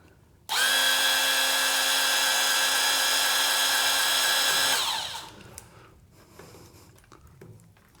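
Seesii cordless grease gun pumping grease into a fitting on a TYM 2515H tractor: a sharp, steady motor whine starts suddenly, holds for about four seconds and cuts off, leaving faint clicks and quiet handling.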